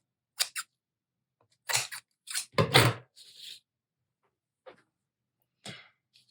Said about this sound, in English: Cut off just a little bit here.